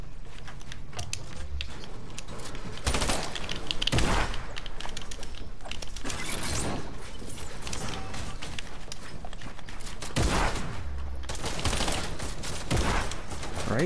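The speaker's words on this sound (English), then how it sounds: "Yo, people shooting at me." Rapid bursts of video game gunfire crackle across the whole stretch, with denser volleys near the start and again toward the end, loud and continuous with no talk over it.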